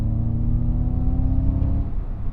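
A Ford Mustang Mach-E GT electric car plays its synthetic drive sound in Untamed mode. A steady, low, tonal hum with layered harmonics rises slightly and holds, fairly loud and without speech.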